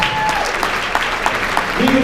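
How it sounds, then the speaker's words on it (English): Applause for a donor at a charity heart ball, a short burst of even crowd clapping with voices underneath. "Give them a big round of applause"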